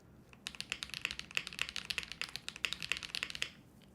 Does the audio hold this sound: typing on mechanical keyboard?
yes